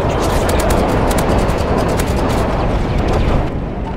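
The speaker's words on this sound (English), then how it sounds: "Friendly Predator missile inbound." Dense, roaring explosion with crackling bursts from a Predator missile strike in Modern Warfare 3, loud and sustained with scattered gunfire-like pops throughout, easing slightly at the end.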